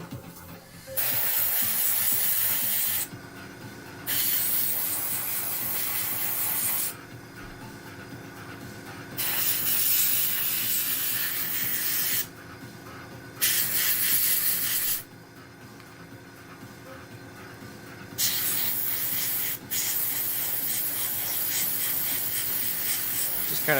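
Paint sprays onto an Avorgo Sentry Bot model in a loose coat, with repeated bursts of close, airy hiss lasting a few seconds each, separated by short quiet gaps.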